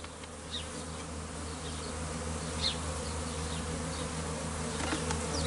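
A dense, steady buzz of many bees flying around an open beehive during a spring inspection, close and continuous with occasional individual bees passing nearer, no talk.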